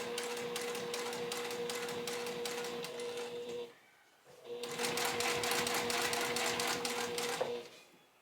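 A sewing machine runs in two steady, rapid bursts as it bastes a seam an eighth of an inch from the edge with black thread. The stitching rattles close and loud, with a short pause between the runs.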